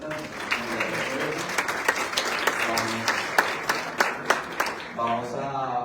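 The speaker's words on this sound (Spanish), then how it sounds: "un aplauso para nuestros panelistas." An audience at a conservation and energy-transition panel event applauds the panelists with dense, sustained clapping from many hands. Voices murmur underneath, and the applause fades into quieter background sound near the end.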